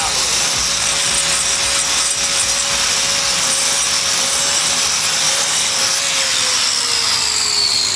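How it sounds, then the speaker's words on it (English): Diamond grinder smoothing down a cured epoxy floor patch, a steady loud whine with a constant tone that slowly drops in pitch near the end, running without pause and with no talking. "you just take the diamond grinder and you just smooth it out"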